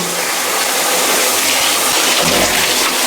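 Shower spray pouring steadily from a showerhead, a dense continuous hiss of running water that stays loud and close throughout without a break.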